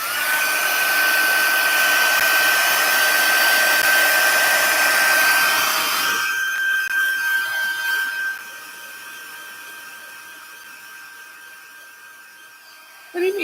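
A hair dryer's loud whirring blast with a high whine, drying wet stamped ink on paper, running steadily and then dropping away to a fainter hum, with a voice talking over it.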